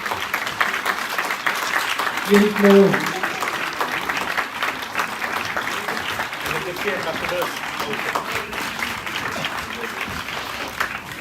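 Ceremony crowd applauding on the quay at Les Sables d'Olonne, a steady wash of clapping that runs throughout while an announcer speaks over it.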